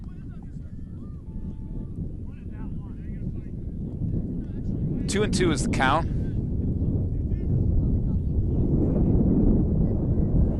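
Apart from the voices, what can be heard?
wind blowing into microphone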